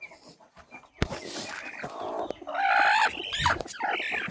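Country hens sitting on hatching eggs cluck and call loudly nearby on a village poultry farm, their voices rising into a longer, drawn-out squawking phrase amid faint chick peeps.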